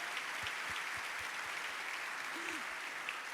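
A church congregation at a worship conference applauds in a steady, diffuse wash of clapping that continues unbroken, with faint low thumps beneath.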